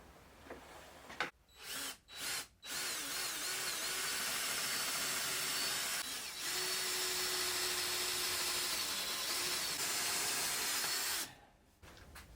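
A power drill whines at high speed for several seconds at a time, drilling out rivets on a 2022 Can-Am X3 Max, with brief starts and stops before two long continuous runs.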